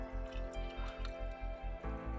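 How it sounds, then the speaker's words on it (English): Water pouring into a garden sprayer tank being filled toward four gallons, a steady close liquid gush with a rhythmic pulsing glug throughout. "We've got some water here. We'll fill it up to 4 gallons,"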